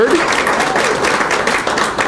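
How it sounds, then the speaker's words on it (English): An audience at a board awards gathering claps steadily in a dense, even wash of applause that stays loud throughout. "Thank you for applauding."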